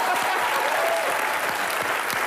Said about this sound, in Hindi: प्रियंका के लिए जोरदार तालियां।